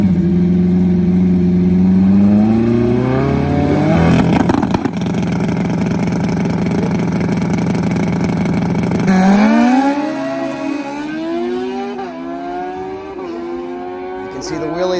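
A turbocharged Suzuki Bandit 1200 with 214 horsepower roars loudly up through the gears as it launches into a wheelie, the engine rising in pitch, holding near full throttle, then backing off and revving again.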